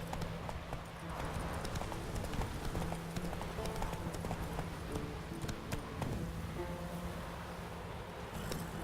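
Roach the horse gallops in The Witcher 3, with a steady rapid clip-clop of hooves over soft ground that continues the whole way through, moderately loud, with faint ambient wind and no talk.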